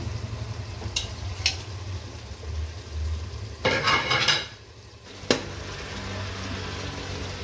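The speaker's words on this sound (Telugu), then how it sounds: "మసాలా దినుసులు వేసేస్తున్నాను దీంట్లోనే." Biryani masala spices go into a pot of cooking for fry piece biryani. Soft sizzling sits under a few sharp clinks of a utensil against the pot and a brief burst of scraping and stirring.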